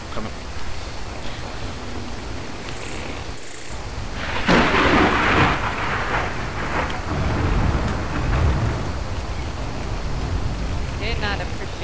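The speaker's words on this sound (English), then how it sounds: "Did not appreciate this rain." Rain and rolling thunder in the survival video game Ark Survival Evolved, a steady hiss of rainfall with a loud thunder rumble swelling midway, and people talking over it.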